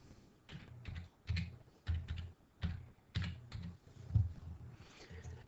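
Typing on a computer keyboard in Excel gives clusters of close, soft key clicks in an uneven rhythm, with short pauses between bursts and no talk.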